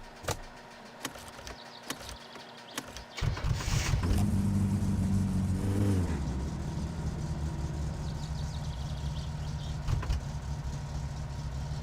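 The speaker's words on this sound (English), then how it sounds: "we have a nice running Satsuma, man" A Satsuma car engine in the video game My Summer Car starts up and settles into a steady, close, droning idle with a slight rise in revs, preceded by a few mechanical clicks.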